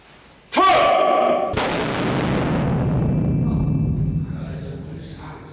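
A historic siege cannon fires inside a Mougin casemate at the Batterie de l'Éperon: one sharp, very loud blast, then a second heavier boom that rolls into a long, reverberant rumble fading over several seconds.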